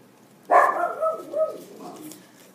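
A puppy lets out a sharp bark followed by a few whining, yelping follow-ups, close and moderately loud, with no talking.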